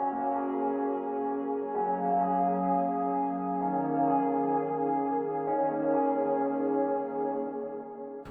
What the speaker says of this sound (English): Then I added this pad sound from Zebra.